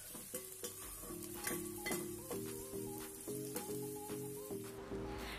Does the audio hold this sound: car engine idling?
no